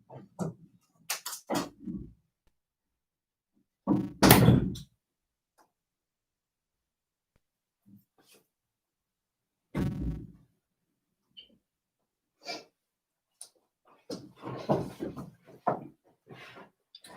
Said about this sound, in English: that door's blown open again